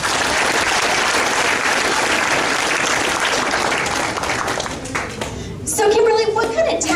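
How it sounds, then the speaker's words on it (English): A crowd at a small-town FFA pageant in Whitharral claps steadily for agriculture supporters. The dense applause fades after about five seconds, and a voice starts speaking. "Let's give a round of applause to all of our ag supporters."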